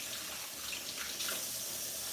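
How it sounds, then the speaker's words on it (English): A kitchen tap runs while someone rinses their hands, a steady close hiss of flowing water with slight splashy shifts as the hands move under the stream. "you've got the noise of the running water and all of that"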